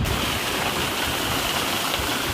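Water gushes steadily from the outlet tube at the end of a fish hatchery's tapered channel, a loud, close, continuous rushing splash with no breaks and no voices.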